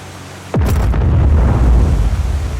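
A rocket booster ignites in the video game Just Cause 4 with a sudden loud whoosh and boom, then a heavy sustained roar rumbling near and loud, slowly thinning out.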